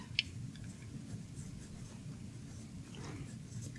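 An Omas Ogiva Nera fountain pen with a smooth, fine nib glides over paper in soft, faint scratchy strokes, close up in a quiet room.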